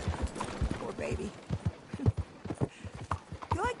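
Horse hooves clip-clop in Red Dead Redemption 2, a steady run of sharp, evenly spaced hoofbeats close by, mixed under in-game voices talking.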